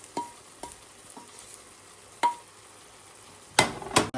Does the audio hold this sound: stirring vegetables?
yes